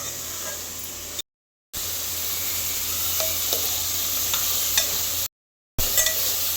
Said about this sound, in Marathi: आता आपण टाकूया मसाला